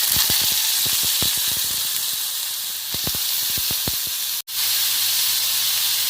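Sliced onions hit about three ladles of hot oil in a kadai while pepper chicken is being cooked, setting off a loud, steady sizzle and hiss. A ladle clinks and scrapes against the pan repeatedly throughout.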